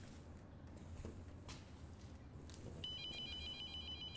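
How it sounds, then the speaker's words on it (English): A telephone rings in the horror video game Abandoned Souls, a faint electronic trill starting late and repeating steadily over quiet, hissy ambience. "The phone is ringing. How is this possible?"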